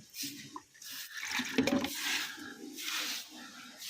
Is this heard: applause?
no